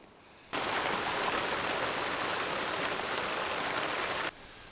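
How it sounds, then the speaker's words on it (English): A sudden heavy outdoor downpour of rain starts abruptly, a dense steady hiss of drops hammering down for several seconds before cutting off just as quickly. "Right, quick downpour there"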